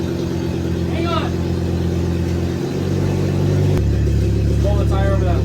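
A GMC truck engine hums steadily, then rises in pitch and loudness as it pulls a tire over a lip. A person speaks over the engine noise.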